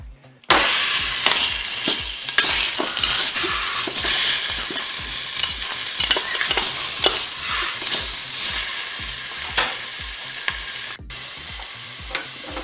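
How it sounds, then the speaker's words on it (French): Pork roast browning in a preheated Cookeo multicooker, a loud steady sizzle with a rhythmic series of scraping stirs and thumps throughout, close up and with no talking. "Et je vais laisser le préchauffage se faire pour pouvoir faire dorer ma viande."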